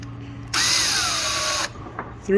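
Power drill running steadily for about a second, boring a pilot hole through a wooden brace for 3-inch screws during chicken coop door construction; its pitch drops slightly as the bit bites, close and loud.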